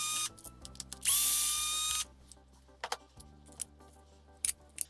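A power driver spins out screws on the front of a Kraton XL RC car in one loud, close whir of about a second, followed by light clicks and rattles of screws and parts being handled.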